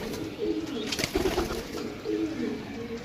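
Desi pigeons coo in low, soft repeated phrases from close by against a steady background murmur, with a brief rustle partway through.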